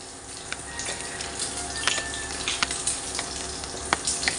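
Meat sizzles and crackles steadily in hot oil and rendered fat, with occasional louder pops and spits over a constant frying hiss.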